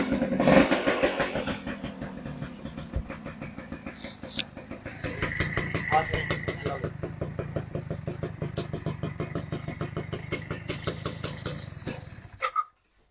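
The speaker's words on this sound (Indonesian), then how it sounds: "Coba kita tes untuk mesinnya." A used farm motorcycle fitted with a new racing exhaust runs with its engine idling and blipping, a rapid, throaty pulsing putter that stays steady and fairly close before cutting off at the end.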